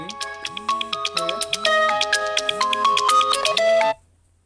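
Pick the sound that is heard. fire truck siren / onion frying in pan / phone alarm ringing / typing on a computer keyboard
phone alarm ringing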